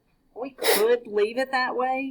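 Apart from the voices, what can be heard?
sneeze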